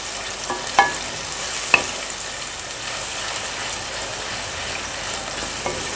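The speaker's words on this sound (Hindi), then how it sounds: "और तब तक भूनना है टमाटरों को जब तक कि ये सॉफ्ट ना हो जाए" Tomatoes frying in a pan for aloo anday salan, a steady soft sizzle throughout with a couple of faint stirring clicks, close and alone.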